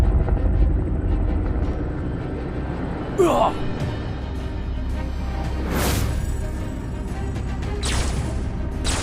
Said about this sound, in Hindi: अपने हेलीकॉप्टर से वहां पहुंच जाता है